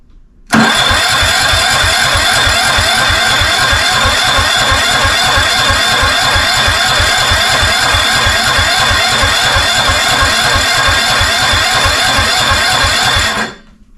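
A Tecumseh engine on a vintage Wheel Horse Lawn Ranger garden tractor with carburetor issues runs loud and close, with a steady rapid chugging pulse that holds evenly for about thirteen seconds before cutting off.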